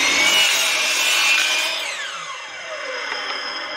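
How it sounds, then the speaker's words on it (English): Metabo miter saw cutting a 45-degree angle in wooden baseboard: a loud, close whining cut, then the blade spins down with a falling pitch and fades. "you'll turn your baseboard upside down and roll it to a 45 and then just cut your angle out"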